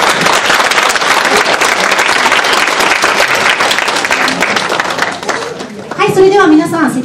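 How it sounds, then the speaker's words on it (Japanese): A large audience at a community gathering gives a guest a loud, sustained burst of applause that fades near the end as a voice begins talking. "ゲストに来ていただきました岡本さんに皆さん盛大な拍手をよろしくお願いします"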